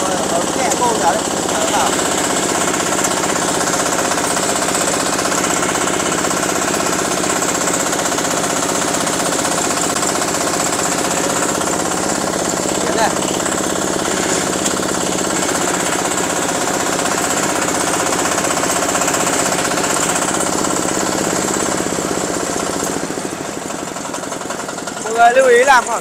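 A mini rice harvester, model 4LZ-1.2 Max, runs steadily with a loud, continuous engine clatter and rapid knocking rattle for nearly the whole stretch, cutting off near the end, with a voice talking over it.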